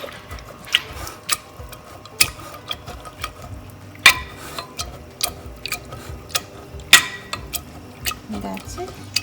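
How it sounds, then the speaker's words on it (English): Chickpea chole mixture being mashed in a pan with a utensil, producing irregular soft clicks and sharp taps against the metal, close and fairly quiet. "I'm going to mash this mixture a little bit"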